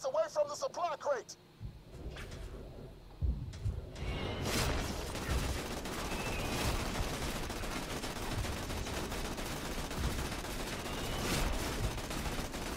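Sustained, unlimited-ammo turret machine-gun fire from a central tower in Borderlands 2, a dense continuous rattle running for about ten seconds after a brief voice and a couple of sharp shots at the start.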